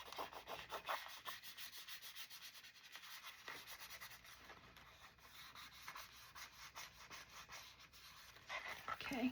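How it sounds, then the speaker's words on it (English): A sticker is burnished down by hand in a junk journal made from a manila envelope, producing soft, repeated close rubbing strokes that stay quiet and scratchy throughout. "Gotta make my sticker disappear by burnishing it down."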